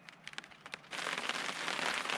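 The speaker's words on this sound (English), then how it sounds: "It's raining now" Rain patters on a primitive wilderness shelter beside a remote mountain lake, first as a few scattered drops, then quickly building into a steady, soft hiss of rainfall close by.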